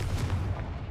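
Confringo fire blast spell cast in Hogwarts Legacy, a brief booming burst with a rumbling, artillery-like body, loud and close with no voices.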